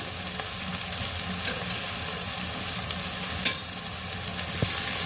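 Onions, curry leaves, green and dried chillies and cumin frying in oil for home-made chicken chukka, with a steady close sizzle and occasional stirring clinks from the pan.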